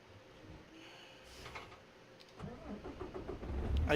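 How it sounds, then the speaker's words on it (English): A heavy truck engine cranks and fires up in the driving game American Truck Simulator. Quiet clicks and cab noises come first, then the engine catches and settles into a rising rumble. "Get the engine started, lights are on, put it in gear."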